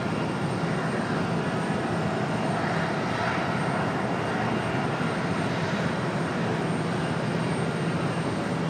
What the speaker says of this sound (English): our A319 off to Houston.